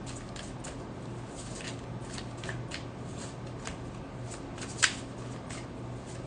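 Tarot cards shuffled and drawn by hand, a soft, close papery riffle of repeated flicks with one sharper snap near the end, over a quiet steady background hum.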